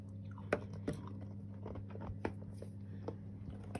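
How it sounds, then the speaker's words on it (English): A hard sweet being crunched close to the mouth: sharp crisp bites and chewing crackles at irregular intervals over a low steady hum. "I'm crunching my sweet"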